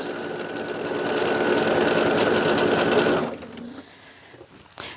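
A sewing machine runs at a steady speed while stitching quilt pieces along both sides of a diagonal line, then stops abruptly, leaving a faint mechanical tick and quiet room sound.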